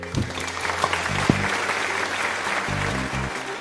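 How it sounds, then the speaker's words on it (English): Steady applause rings out for podcast guests, a continuous mid-level wash of clapping with a low hum beneath it and no talking. "Let us all give all of our guests a virtual round of applause"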